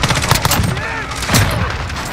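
Gunfire in a Call of Duty: Modern Warfare Hardpoint multiplayer match, with dense overlapping bursts of automatic fire and sharp shots alongside game voice callouts, loud and continuous throughout.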